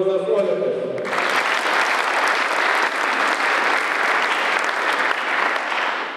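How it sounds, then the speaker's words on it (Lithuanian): Loud, sustained applause from a large audience at a Lithuanian riflemen's day ceremony, a dense steady clapping wash that swells in after a brief musical tone at the start and continues unbroken. "Plojimai jiems."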